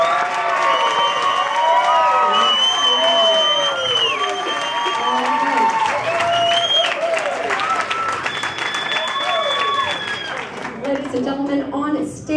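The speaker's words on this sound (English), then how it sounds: "Ladies and gentlemen on stage, these guys are going to give you a big round of applause." A hypnosis stage show audience bursts into loud, sustained applause and cheering, with whoops and shouts over dense clapping and a host's voice talking through it.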